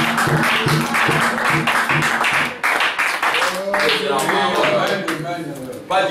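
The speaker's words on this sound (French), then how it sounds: "Acclamation pour le Seigneur." Congregation clapping in acclamation to the Lord during a French-language church service, a steady dense round of applause running throughout with voices and music mixed in, briefly dipping near the middle.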